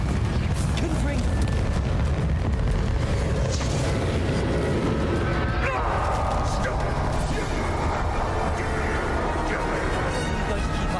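Confringo and Bombarda spell blasts in Hogwarts Legacy, dense continuous combat with repeated booming bursts and crackling impacts, loud and close, mixed with spoken spell calls.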